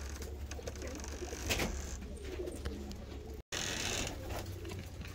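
Quality show pigeons of breeds such as Maltese, Japanese and Helmet coo in low steady tones, with a brief dropout near the middle.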